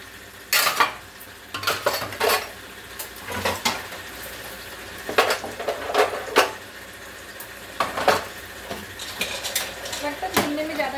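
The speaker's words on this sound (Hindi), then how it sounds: "बर्तन धुलने में ज़्यादा टाइम नहीं लगता" Dishes, pots and pans being washed in a home kitchen with fresh morning water, giving scattered clinks and clatters of metal and crockery in irregular bursts over a running-water background.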